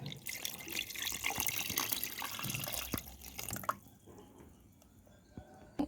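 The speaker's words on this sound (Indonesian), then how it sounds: "sekarang kita tambahkan air" Water pours over soaked ingredients and dribbles while Nasu Cemba, an Enrekang dish from South Sulawesi, is prepared, a close trickling splash that tapers into a few faint drips.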